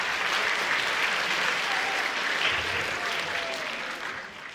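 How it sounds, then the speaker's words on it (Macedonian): Audience at a children's song festival applauding steadily, a dense even wash of clapping that holds throughout and fades slightly at the end. "Аплауз и за нив ве молам."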